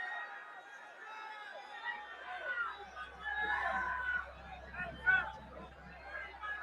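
Crowd at a concert, a distant murmuring babble of many voices with scattered shouts rising and falling, a low rumble underneath from about two seconds on.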